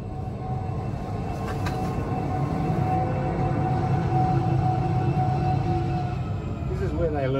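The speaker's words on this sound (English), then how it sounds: "Propelling us forward is Class 421 Loco 42101." A heritage train hauled by Class 421 diesel locomotive 42101, built in 1965, rolls on the East Coast Heritage Rail line between Unanderra and Robertson, heard from the rear as a steady, loud rumble with a brief squeal near the end.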